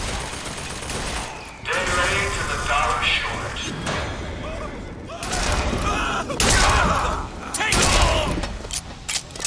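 A pistol fires in the video game Bioshock Infinite amid heavy surrounding gunfire, loud bursts of shots and thuds in several clusters, with a voice talking over them.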